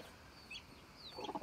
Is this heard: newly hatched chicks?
yes